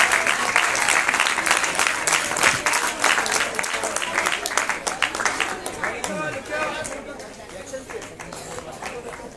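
Audience clapping at a science festival awards ceremony, starting as a dense burst with sharp individual claps and gradually thinning and fading, with murmuring chatter from the crowd underneath.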